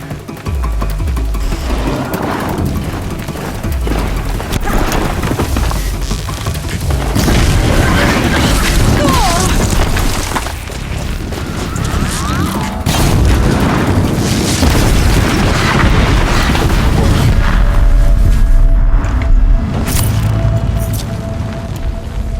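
Bombs exploding in the video game Horizon Zero Dawn at a Shadow Carja outpost, heard as a dense, continuous stretch of loud booms and blasts with crackling bursts that never let up.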